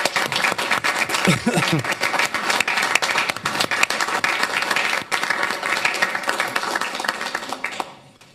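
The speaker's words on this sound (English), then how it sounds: "Can we give one more round of applause for those who helped start this park?" An audience at a city council meeting claps loudly and continuously for several seconds, a dense, even round of applause that tapers off at the end.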